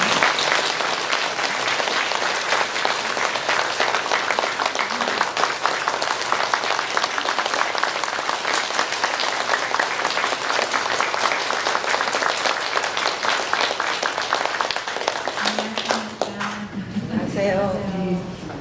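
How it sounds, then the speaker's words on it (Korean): An audience at a parish martyrs' evening lecture gives sustained, loud applause to welcome a nun to the stage; the clapping stays dense for most of the span, then fades as a voice begins speaking near the end. "큰 박수로 환영해 주시면 감사하겠습니다"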